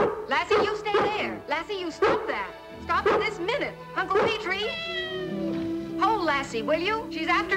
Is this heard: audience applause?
no